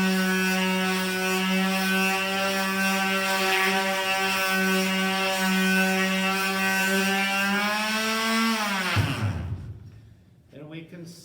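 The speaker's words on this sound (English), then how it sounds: "So as we go to use a palm sander" A palm sander runs on a wooden project with a steady, buzzing motor whine that holds for several seconds, then winds down and stops.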